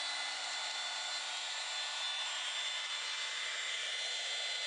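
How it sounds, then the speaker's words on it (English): A heat gun runs steadily during a mid-century modern dresser restoration, a constant close airy roar with a faint hum beneath, unbroken and loud throughout. "whenever you're using the heat gun, make sure you keep it moving"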